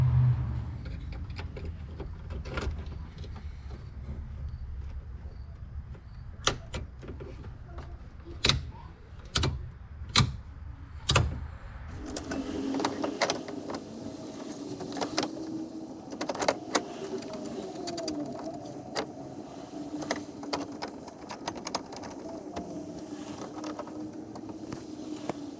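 Clicking from a car headlight switch knob being pushed in, a series of sharp, distinct clicks in the first half followed by a steadier, busier run of small mechanical clicks and rattles.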